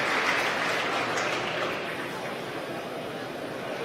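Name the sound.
spectators cheering after SpaceX Dragon deploys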